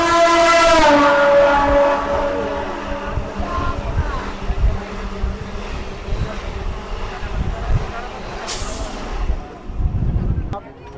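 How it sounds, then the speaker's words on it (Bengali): A local train at Dum Dum station platform sounds a tonal horn at the start, then rumbles and rattles steadily close by, with a brief hiss late on. "দমদম এক নম্বর প্ল্যাটফর্মে ট্রেনটা দিয়েছে"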